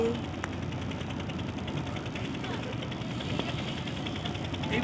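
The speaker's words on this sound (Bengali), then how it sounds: "নৌকা যাচ্ছে" A boat engine on a picnic trip near Sandeshkhali drones steadily as the boat moves, a constant mid-pitched hum with no clear break.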